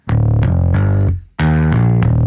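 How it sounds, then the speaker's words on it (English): Bass guitar run through a gritty Logic distortion plugin plays loud sustained distorted notes, two phrases separated by a brief pause, with no voices. "And what I do is I put it through a distortion plugin."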